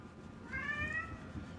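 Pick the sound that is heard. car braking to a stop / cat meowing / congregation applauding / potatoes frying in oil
cat meowing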